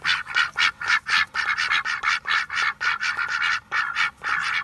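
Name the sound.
ducks quacking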